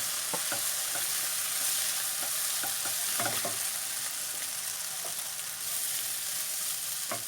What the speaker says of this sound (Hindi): अब इसको बस इसमें थोड़ा सा ऐसे करके मिक्स अच्छे से करेंगे कि सारा इसमें मसाला चला जाए